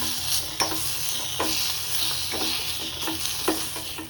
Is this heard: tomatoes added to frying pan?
yes